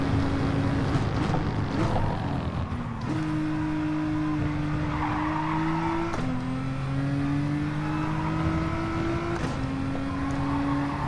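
Race car engine in a racing video game, revving and repeatedly accelerating through gear changes with rising pitch sweeps and light tire squeal, close and continuous.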